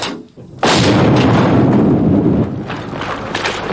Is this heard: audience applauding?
no